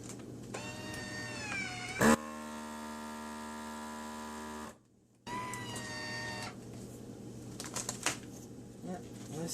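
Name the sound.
FoodSaver vacuum sealer sealing a bag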